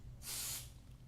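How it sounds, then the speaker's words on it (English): A single short burst of Swamp Stop Ball Spray hisses from an aerosol can, about a third of a second long, close and fairly soft, with quiet surroundings before and after. "I think I could use a little spray down there now."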